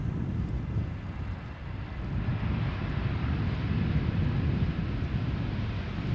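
An Airbus A320neo arriving at Amsterdam Schiphol gives a broad, steady roar with wind-like rushing as it lands and slows, heard from a distance and continuing without a break.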